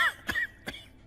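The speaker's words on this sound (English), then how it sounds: "Let me cure your cough" Two short, sharp coughs spaced about half a second apart, fairly close and clear against a quiet background, from a character in a dubbed fantasy anime scene.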